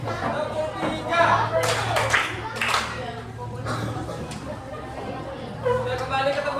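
Students in a classroom clap together on a teacher's count, with a burst of sharp, loud claps in the middle and children chattering and laughing before and after.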